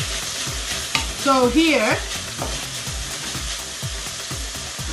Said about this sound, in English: we need to cook well the bacon. Look like it's better to cook well, like halfway crispy with the bacon.